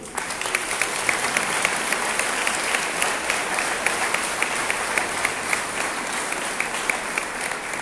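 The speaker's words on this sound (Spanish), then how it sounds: "para quienes pido un fuerte aplauso" Sustained applause from a large audience at a talk in Oaxaca, steady dense clapping continuing evenly throughout without any speech.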